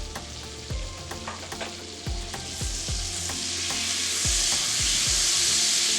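Cinnamon butter sizzles and fries in a pan as vanilla goes in, a loud steady crackle punctuated by repeated knocks of a utensil stirring against the pan.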